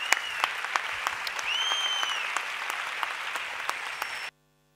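Audience at a CCOO union women delegates' panel applauding after a closing speech, a close, steady round of clapping with sharp individual claps and a few whistles, cutting off abruptly at the end.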